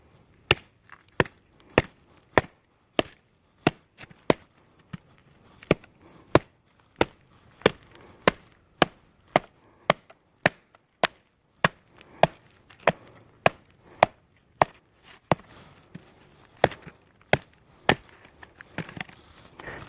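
A custom bushcraft knife chops steadily into pine wood, about thirty sharp, close, loud strikes in an even rhythm with brief quiet gaps between blows.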